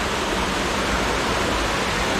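Kokegawa Otaki, a large waterfall on the upper Kokegawa river, roars as a steady, dense broadband rush of falling water, loud and close with no pauses and no voices.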